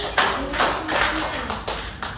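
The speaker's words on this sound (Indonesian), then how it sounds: "tepuk tangan dulu" A classroom group claps in short, evenly spaced bursts, fairly close and moderately loud, with a faint voice underneath.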